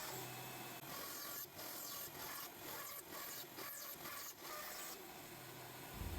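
A belt sander grinds wheels cut from skateboard wood, about two inches across, toward a round shape. The scraping rasp is fairly quiet, with a rough, pulsing texture as the pieces are turned against the belt.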